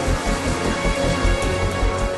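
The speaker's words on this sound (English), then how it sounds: "Some of the water drops become too heavy for the updraft of air to lift and fall as rain." Heavy rain pours steadily from thunderstorm clouds, a dense hiss of falling drops over a deep, continuous rumble of thunder, with no voices.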